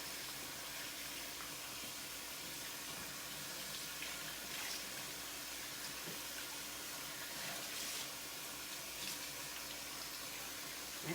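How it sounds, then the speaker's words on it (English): A running tap rinses hair bundles and a wig cap under a steady stream, a continuous splashing hiss of water, fairly close and alone, with slight shifts as the hair is moved through the flow. "You can throw the whole cap up underneath this water, band and all."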